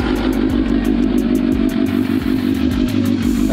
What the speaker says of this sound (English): That's what that Yoshimura sounds like right there.